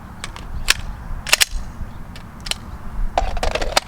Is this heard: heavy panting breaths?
no